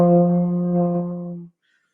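A trombone plays a single soft, weak sustained note with a thin, steady tone that holds for about one and a half seconds before stopping, heard alone without any talking.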